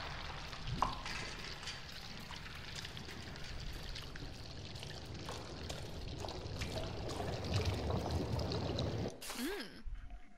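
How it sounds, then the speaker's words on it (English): Ink dripping and trickling in the horror game Bendy and the Dark Revival, a steady wet pouring, spattering flow that runs throughout, with a brief sweeping tone near the end. "The ink drips."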